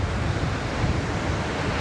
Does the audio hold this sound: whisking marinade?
no